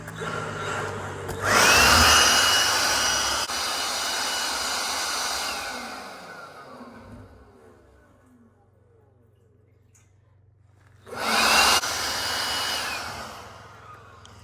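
A portable air blower runs in steady bursts, a loud broadband rushing that starts, holds for several seconds, fades out, then kicks back on near the end, with no talking over it.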